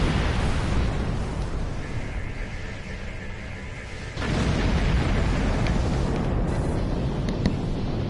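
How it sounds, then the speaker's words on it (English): In the Star Trek Online space combat game, torpedoes fire and explode in a continuous, loud, booming wash of blasts, with a fresh surge of detonations about halfway through. "Have some torpedoes."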